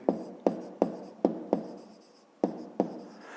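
A pen writes on paper during a fifth-grade math exercise, giving seven sharp scratchy strokes in an uneven rhythm, each fading quickly, close and fairly quiet with no talking.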